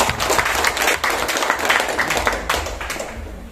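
An audience at a village gathering breaks into brisk, dense applause, many hands clapping loudly and continuously, then easing slightly toward the end.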